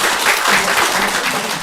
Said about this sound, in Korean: 큰 박수로 환영해 주시기를 바라겠습니다